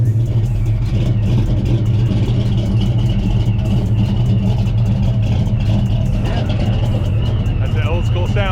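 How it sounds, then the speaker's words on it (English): A supercharged Vortech Fox Body Mustang notchback V8 running loud and close, a steady heavy rumble with a rising supercharger whine near the end, while people talk over it. "Give you guys a nice little startup on this Fox here."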